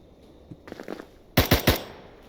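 Three quick gunshots ring out in the Door Kickers 2 tactical shooter, loud and close together near the end, after softer scattered clicks and shuffling sounds earlier.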